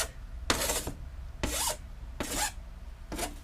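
A hand file rasps across a workpiece in four separate strokes, each a short, bright scraping burst with quiet pauses between, close and fairly loud.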